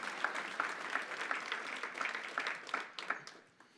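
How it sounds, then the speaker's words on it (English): Scattered audience clapping at a church diocese gathering, fairly faint and distant, a sparse patter of individual claps that thins out and fades toward the end. "yeah, you can clap for yourselves"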